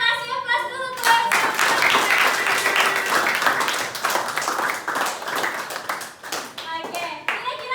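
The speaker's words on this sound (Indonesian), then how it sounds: "Kita kasih aplaus dulu guys." A classroom of students breaks into loud, dense applause that runs steadily for several seconds before thinning into a few scattered claps as children's voices return.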